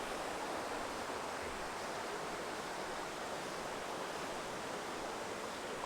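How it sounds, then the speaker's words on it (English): Argyle Waterfall in Tobago: a dense, unbroken roar of falling water, loud and steady without pauses, with no voices over it. "welcome to the Argyle Waterfall."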